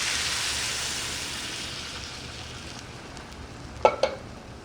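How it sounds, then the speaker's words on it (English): Vegetable stock being poured into a pot of rice for mujadara, a steady hissing sizzle that gradually fades, followed by two quick clinks near the end. "I'm adding just a little over 2 cups of vegetable stock to this"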